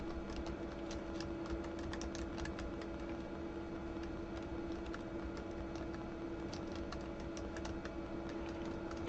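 Typing on a computer keyboard while entering an email subject: quiet, rapid key clicks come in an uneven, continuous run over a steady low hum.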